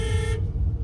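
A repaired car's double horn blares loudly for a short blast close by, then cuts off abruptly, leaving low engine and road rumble underneath.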